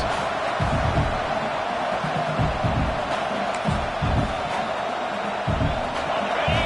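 A college football stadium crowd roars on fourth down to urge its defense on. The noise is loud and continuous, with rhythmic surges and chanting bursts throughout.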